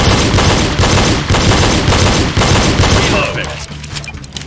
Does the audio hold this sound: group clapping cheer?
no